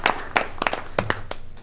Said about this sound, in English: Can I hear a little clapping now,